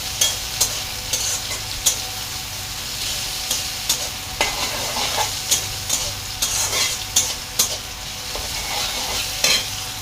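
Boiled amaranth stems and leaves fry in a pan for a Bengali-style bhaji, with a steady sizzle broken by repeated sharp scrapes and taps of a spatula stirring the greens.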